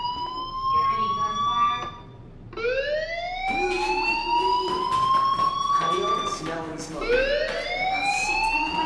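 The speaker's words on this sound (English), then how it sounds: "Hey, do you hear that fire alarm? That means you should be outside." Fire alarm sounding in the Life Is Strange video game, a loud repeating rising electronic wail cycling every couple of seconds, dominating the scene with some faint background noise.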